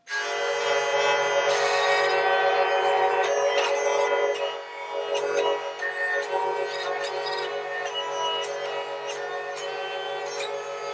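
Hurdy gurdy with keys pressing tangents against the melody strings, a steady bright buzzing drone with shifting melodic pitches, continuous and fairly loud throughout, no talking.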